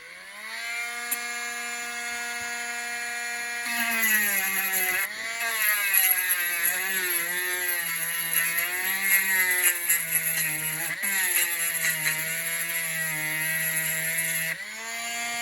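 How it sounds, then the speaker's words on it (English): A Dremel rotary tool grinds a donkey figure, its high whine starting steady, then dipping and rising in pitch as it bites into the material in repeated short passes, close and alone. "I'm going to take the Dremel to it a little more."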